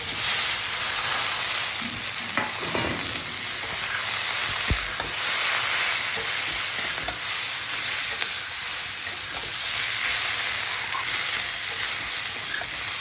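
Yardlong asparagus beans and potato fry with onion, poppy seed and turmeric, giving a loud, continuous, even sizzle that runs unbroken throughout.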